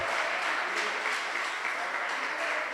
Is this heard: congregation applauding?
yes